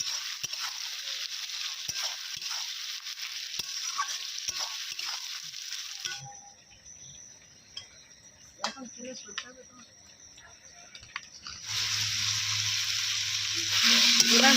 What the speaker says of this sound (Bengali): টমেটো কুচিগুলো ভালোভাবে পেঁয়াজের সাথে মিক্স করে ভেজে নেওয়া হবে